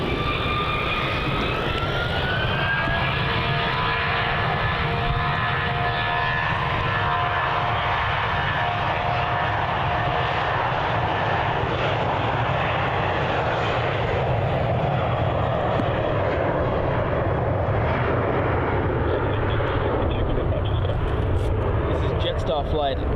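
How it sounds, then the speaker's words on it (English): A Boeing 737 jet lands at Melbourne Airport, its engine roar loud and sustained with a whining tone that slowly falls, while people talk over the noise throughout. "737, wind 350 degrees, 16 knots, runway 34, clear to land."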